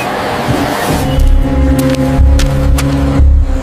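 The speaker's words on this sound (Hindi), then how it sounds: "ये किसकी गाड़ी है?" Car engine running close by, a loud steady low rumble with rhythmic pulsing throbs as it idles or pulls up, with faint clicks above.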